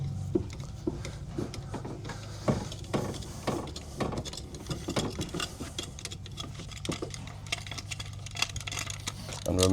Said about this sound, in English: Now we lower the vehicle back down.